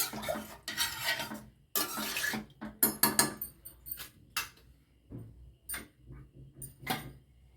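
A spoon scrapes and clinks against a metal pot while stirring vegetable sambar ingredients with turmeric, in bursts, with scattered knocks and taps between strokes, close by.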